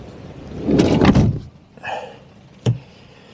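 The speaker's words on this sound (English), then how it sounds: "I'm not going to open the door fully. It's blowing a hoolie." A van door on the Isle of Skye is pulled partly open in a strong gale at high tide: a loud rumbling slide, a softer rattle, then a sharp close, all up close.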